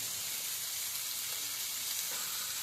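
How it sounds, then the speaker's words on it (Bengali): Chicken meat lightly frying in a pan gives a steady, close hiss and sizzle that holds evenly throughout, with no voices over it. "তাই আমি একটুখানি হালকা ভেজে নেবো"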